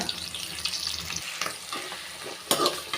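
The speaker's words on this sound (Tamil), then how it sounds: "வெங்காயம் வதங்குறதுக்கு கொஞ்சமாக உப்பு சேர்த்துக்கிறேங்க" Chopped onions with salt sautéing in a pan, a soft, uneven sizzle broken by brief bursts of stirring and splashy scraping, fairly quiet and without speech.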